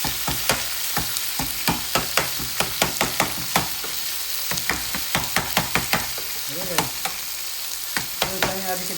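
Tomatoes with a little added water fry into gravy for a fish curry, with a steady sizzle under repeated clicking taps of a spoon stirring in the pan, close and continuous.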